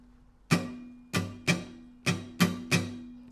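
Acoustic guitar strumming for a song, six crisp strums in a down-down-up-up-down-up pattern over a low sustained note, close and fairly quiet with no voices.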